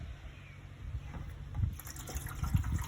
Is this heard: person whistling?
no